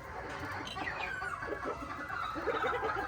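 Golden Monkey Sweater chickens cluck and murmur steadily in a brood pen, several birds close by with soft overlapping calls and a few sharper clucks, no talking.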